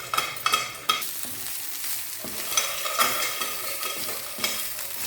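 Vegetables frying with a spoonful of biryani masala powder for veg biryani, a steady close sizzle broken by repeated scraping and stirring knocks from a spoon, with no talking.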